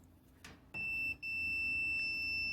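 A multimeter gives a steady, high electronic continuity beep while its probes test the heater coil of a Samsung front-load dryer. The tone breaks briefly once, then resumes and holds.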